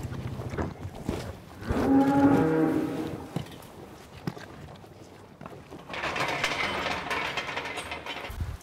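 Dairy cows on a farm moo several times before milking, deep drawn-out calls rising loud and close around the middle, with barn clatter and a brief shuffle between them.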